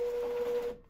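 A Braille embosser printing, mixed with a voice, gives a short, steady buzzing chatter with a sustained tone that cuts off abruptly near the end.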